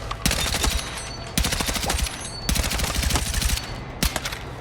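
Bursts of rapid automatic fire from a DRS rifle with a long suppressor in Battlefield 6, loud and close, coming in several separate strings of shots with brief pauses between them.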